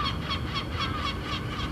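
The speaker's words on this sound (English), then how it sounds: "Seagulls there." Seagulls call in a steady series of repeated squawking cries, fairly loud over a noisy background.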